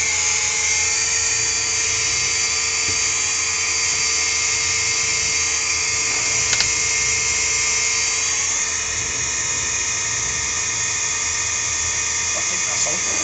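Fuel pump whining steadily while an engine is primed with oil, a loud, continuous high-pitched electric whine that stays constant throughout, with faint clicks and no clear talk.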